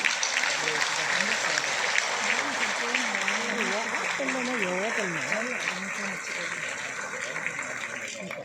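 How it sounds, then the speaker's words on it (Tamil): Dense, steady applause from the audience at an annual general meeting of a Tamil Nadu hostel owners' welfare association, as core members are called to the stage, with voices carrying faintly underneath throughout. "கரகோஷம்"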